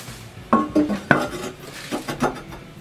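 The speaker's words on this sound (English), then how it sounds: "Now we can put the lid on here." A ceramic toilet tank lid is set in place with a few hard clinks and scrapes, several sharp ceramic knocks in quick succession, close and fairly loud, with no talking.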